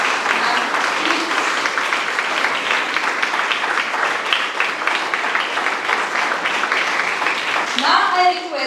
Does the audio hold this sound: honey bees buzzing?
no